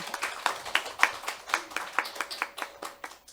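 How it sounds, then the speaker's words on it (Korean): A church congregation at a Sunday Easter service claps in rhythm, with sharp, evenly spaced beats of many hands striking together at a moderate, slightly distant level. "여기 오신 모든 분들 각자에게 큰 박수 한번 보내주시면 좋겠습니다."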